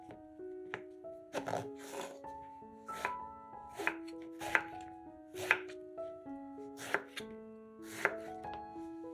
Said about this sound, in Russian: Баклажаны нарезаем большими кусочками.